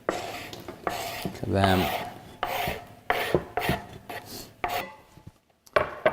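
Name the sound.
stirring onions, garlic and celery in a pan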